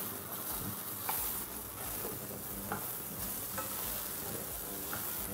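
Chopped onions fry in butter and coconut oil with garam masala in a pan, giving a continuous close sizzle broken by periodic scraping stirs, with no voices.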